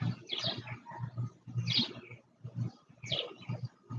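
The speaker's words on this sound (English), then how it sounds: "The birds continuing to sing." Birds sing outdoors in short repeated chirping phrases, about three bursts over a few seconds, moderately close and with no voice over them.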